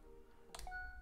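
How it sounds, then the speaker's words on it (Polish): A short electronic phone-like ringing tone, a couple of clear steady beeps sounding close and alone with no talk over it. "myślałem, że to mój telefon dzwoni"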